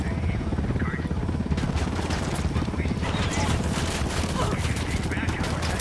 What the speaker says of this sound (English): Taking a shot. Get ready. Fire.